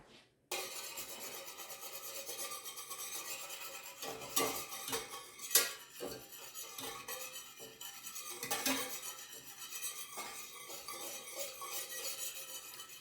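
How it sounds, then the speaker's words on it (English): A whisk scrapes and clinks briskly against a metal pot of turkey gravy, close and moderately loud, in fast uneven strokes with a faint simmering sizzle underneath and no voices. "I do think I'm going to take the whisk to that."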